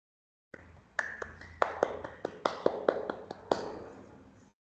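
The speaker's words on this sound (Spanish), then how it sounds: "Un aplauso." Scattered handclaps for a doctoral thesis defense, roughly a dozen sharp claps at an uneven pace, faint and thin as if from a few people over a call, with no talking.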